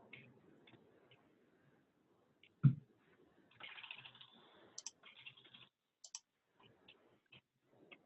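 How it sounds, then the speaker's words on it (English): Computer mouse clicks during graphic design work in Canva, sparse quiet clicks scattered over several seconds with one louder knock and a short burst of keyboard-like clatter, close and faint. "you probably could hear my clicking"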